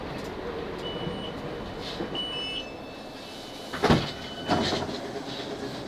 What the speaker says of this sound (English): This train is now approaching Queenstown Road.